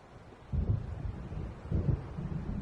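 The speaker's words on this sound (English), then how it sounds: "It seems there's a storm coming." Low rumbling thunder rolls through a stormy night scene in the video game Alan Wake, swelling in two heavy surges over a steady windy background, with no one talking.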